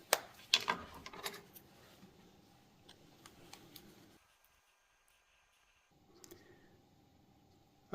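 Scissors snip through thin plastic sheet while a control horn is cut out, faint crisp clicks and crunches close by, a brief burst at the start, then sparse quiet snips and a short silent gap.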